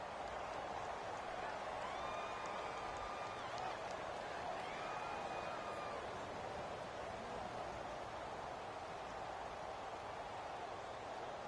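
Steady stadium crowd roar in the Madden 18 football video game, a continuous broad wash of cheering noise with faint tonal sounds early on and no clear breaks.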